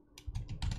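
Keys typed on a computer keyboard to enter a MySQL terminal command on macOS, a short run of quiet, close clicks in a few quick bursts.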